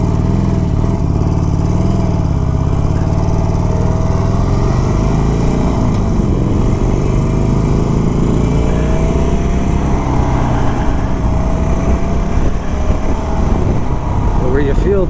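A 2021 Harley-Davidson Sportster Forty-Eight runs while being ridden, a steady mechanical engine drone that rises and falls slightly with throttle, with a rider talking over it throughout.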